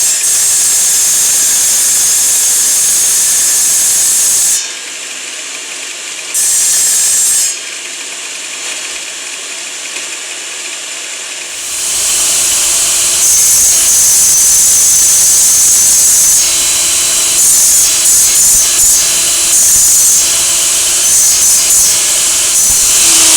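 A saw cuts pieces of petrified wood with a loud, harsh, hissing grind that stops and restarts in stretches, then continues unbroken, with no talking.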